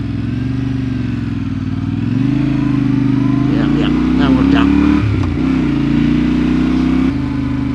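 Yamaha Ténéré 700 motorcycle engine running close up on a dirty, tight road, a steady mid-pitched drone that rises slightly and dips briefly around a pause, with a person talking over it.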